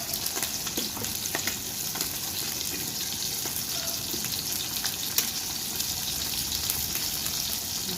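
Fish fries in a pan with vegetables, giving a constant dense sizzle and crackle close up, with a few faint clinks and no talking.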